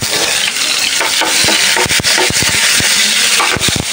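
A spice paste of turmeric, chili, coriander and garlic sautés in a pan, giving a constant loud frying hiss with repeated scraping and tapping strokes of a spoon stirring close by.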